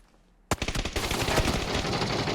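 Loud rapid bursts of automatic gunfire in the video game PUBG erupt after a brief quiet moment, continuing as a dense, sustained volley of shots.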